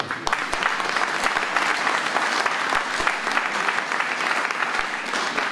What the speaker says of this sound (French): je voudrais qu'on les applaudisse très très fort